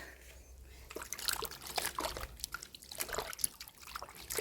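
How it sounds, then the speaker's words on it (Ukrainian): Tomatoes being rinsed under running water from a tap, with a steady trickle and splashing broken by handling noises, close and moderately quiet, for home canning of marinated tomatoes. "Зараз мені потрібно помити томати."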